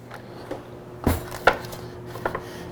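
A butter knife cuts a slab from a block of butter on a board, giving a few sparse, soft close taps and knocks against a quiet kitchen background.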